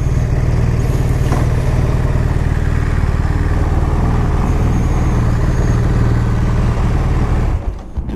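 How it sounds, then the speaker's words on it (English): A BMW R1200R motorcycle with a boxer engine pulls steadily under way, its loud continuous drone and rumble holding close for several seconds before cutting off abruptly near the end. "I sure enjoy those bikes. Those boxer motors."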